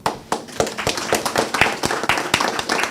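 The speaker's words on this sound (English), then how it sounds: "Give the 3 of them a round of applause, please." A small group claps for National Spelling Bee participants, a short, uneven burst of close hand claps that lasts the whole few seconds without talk.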